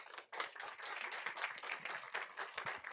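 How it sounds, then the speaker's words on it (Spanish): Applause from a seated audience at a talk welcomes a speaker to the stage, a dense burst of clapping that starts abruptly and carries on steadily for a few seconds. "Recibamos con un aplauso a Magín Viviano"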